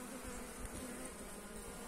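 Dense, steady buzzing of honey bees crowding over a hive frame, heard up close and continuous throughout with no voices.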